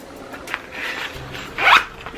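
A zipper on a small Conair trimmer travel pouch is pulled open in a couple of quick, close rasping strokes, the second one louder.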